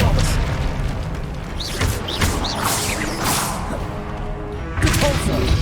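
Spell combat in the Hogwarts Legacy video game with an Expelliarmus disarming spell, heard as loud booming whooshes and crashing impacts that repeat across the battle, over a steady rumbling low-end bed.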